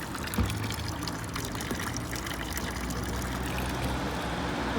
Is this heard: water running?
yes